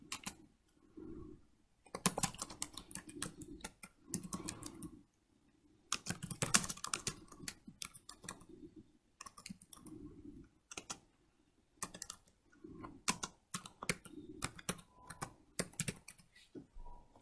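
Someone types text into a digital class notebook page on a computer keyboard: bursts of rapid, close key clicks separated by brief pauses, quiet and steady with no talking.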